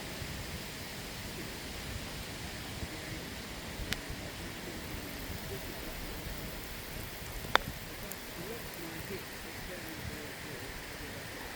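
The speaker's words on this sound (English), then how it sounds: "It started raining, so this adds in another element where it tests your speed control." Steady rain hisses evenly across an open golf putting green, with a couple of faint ticks and taps breaking through the constant wash.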